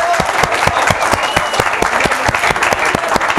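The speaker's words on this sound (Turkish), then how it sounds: "Lütfen kendinizi alkışlar mısınız?" A lecture audience applauds itself in a loud, close burst of dense hand clapping with sharp individual claps standing out, continuous for the whole stretch with no talk over it.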